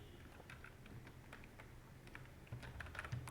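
Typing on a computer keyboard: quiet, irregular clicks of keys tapped in short flurries, growing a little denser and louder toward the end.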